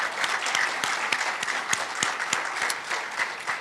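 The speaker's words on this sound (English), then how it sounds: "Please join me in giving them a round of applause to Teresa and her entire team." Audience applause at the 2022 Women United Lighting the Path luncheon: dense, steady clapping from a seated crowd with a few sharper individual claps standing out, sustained at an even level throughout.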